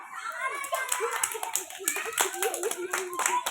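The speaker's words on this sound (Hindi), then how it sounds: "अरे ताली मारो" Children playing a game seated in a circle with a duster clap their hands in quick, uneven bursts, close and lively, while children and an adult voice talk over the clapping.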